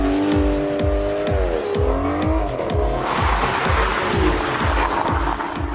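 An Aston Martin Vantage S, a V12 car in sport mode in the DRIVECLUB racing game, revs hard through repeated rapid gear-shift cycles with squealing tires, loud and close.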